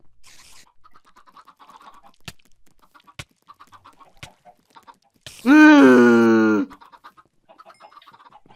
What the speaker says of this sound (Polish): Cicho, kury, cicho!